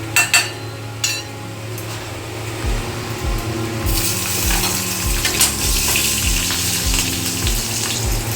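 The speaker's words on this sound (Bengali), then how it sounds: "এবার দিয়ে দেবো কাঁচা লঙ্কা এবং কালো জিরে ফোড়ন।" Green chillies and nigella seeds hit hot oil for a Bengali tempering, a few sharp clatters and pops, then a loud steady sizzle with crackling spits and the scrape of stirring.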